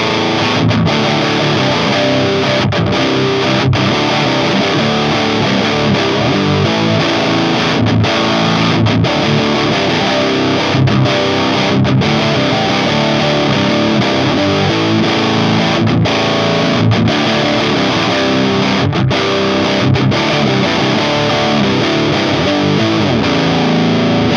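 High-gain electric guitar played through the Diesel VS4 amp model on a Valeton GP-100 multi-effects unit: loud, thick distorted riffing that runs for the whole stretch with brief rhythmic stops, and no talking.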